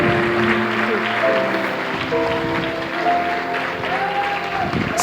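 Applause rises at a church gathering, steady and fairly loud throughout, mixed with voices and sustained tones that sound like singing or music.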